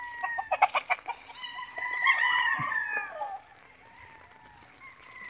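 Gamecocks in a flooded yard cluck in a few quick, close bursts before a rooster lets out a long, loud crow, then the yard falls quieter.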